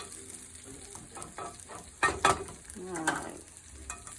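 Food browning in a pan during home cooking with a child gives a steady frying hiss with sizzle, a few louder stirring scrapes near the middle, and a brief voice.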